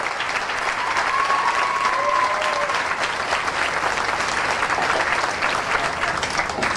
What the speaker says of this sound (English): one last round of applause for the Logan County King contestants and the whole stage here as a whole